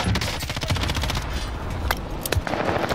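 An allied precision airstrike in a battle royale shooter game lands as a dense, loud barrage of rapid explosive blasts and crackling impacts that rolls on steadily across the whole stretch, with a few sharper bursts near the end.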